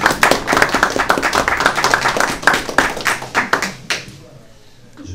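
Conference audience applauding, a dense burst of many clapping hands that holds steady for several seconds, then tapers off abruptly into near silence.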